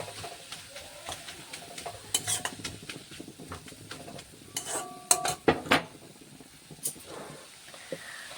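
Pointed gourd leaves fry in a pan while a utensil stirs and scrapes them, giving soft sizzling beneath scattered metallic clinks and taps, with a few louder knocks in the middle.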